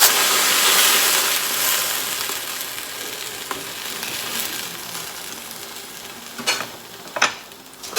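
Buttered bread for a spicy potato sandwich sizzles in a frying pan, a continuous hiss that starts loud and slowly fades, with a few scraping clicks toward the end and no talking.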